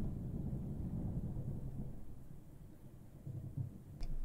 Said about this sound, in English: But it's raining already.